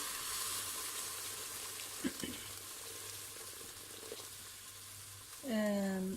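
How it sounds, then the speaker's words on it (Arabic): Boiling water poured into a pot of browned zucchini stuffed with rice starts a loud hissing rush near the end, after a stretch of quiet sizzling frying with a few soft clinks. "هلا هون خلص اخذت اللون، بدي احط لها مي مغلية"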